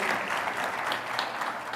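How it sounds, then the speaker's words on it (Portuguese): Audience applause at a motivational talk on attracting prosperity, a dense steady wash of many hands clapping together, fairly close and sustained without a break. "Uma salva de palmas lá para o Canadá"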